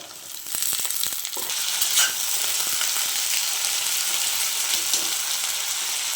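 Cluster beans and onions sizzle in a pan with a continuous hiss, opening with a flurry of scraping, clattering stirs before settling into even frying.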